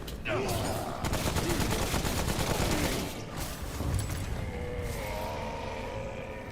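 Rapid gunfire from shooting an enemy in the video game Remnant, a dense burst of shots for about three seconds, then quieter game noise and scattered sounds.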